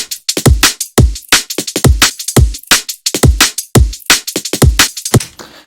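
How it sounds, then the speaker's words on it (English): Liquid drum and bass drum loop from a sample pack: punchy kicks and crisp snares in a skippy, syncopated groove with busy hi-hats, loud and dry, with no voice over it. "pretty standard skippy, liquid drums"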